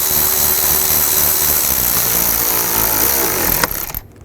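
A power tool tightens bolts on the driver-side variable valve timing solenoid of a Nissan Xterra engine, running as a steady loud whir for most of the clip, then stopping abruptly near the end.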